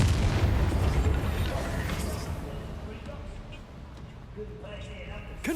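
Hogwarts Legacy's Confringo fire spell erupts in a loud, rumbling explosion that tails off gradually, with game effects and a voice speaking underneath.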